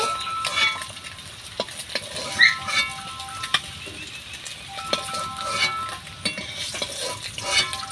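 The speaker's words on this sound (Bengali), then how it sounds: "ডিমগুলো দেখুন লাল লাল করে ভেজে নিয়েছি। এবার এক এক করে তুলে নেব।" Fried eggs are lifted one by one out of a frying pan with a utensil, giving soft sizzling punctuated by sharp scraping and clinking taps, close and fairly quiet.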